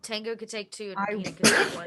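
A single sneeze bursts out loudly at close range near the end, following a stretch of conversational talk among players at a tabletop game session.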